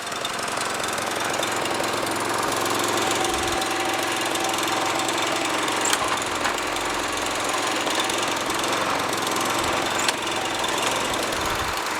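A Toro lawn mower with a blade clutch, in rough, neglected condition, runs steadily up close with a continuous rattling, knocking engine drone and no talk.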